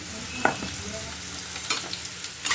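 Quiet sizzling of potatoes frying in a pan, with a few sharp scrapes and clicks of stirring scattered throughout.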